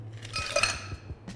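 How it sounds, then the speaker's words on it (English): A bar spoon clinks and scrapes inside a mixing glass while a Black Manhattan is stirred over ice, light repeated metallic and glassy taps close by with no talk. "Now it's time to stir down our cocktail."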